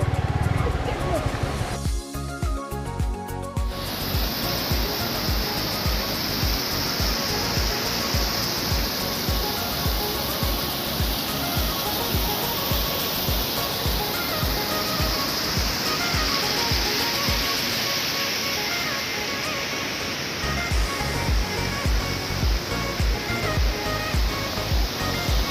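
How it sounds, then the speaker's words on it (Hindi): Waterfall seen from a bridge near a Himalayan temple site, a steady loud roar of falling water filling the whole clip, with a brief crackle of handling noise early on. "वो देखिए कितना प्यारा झरना सामने, देखिए आप व्यू देखिए उस झरने का।"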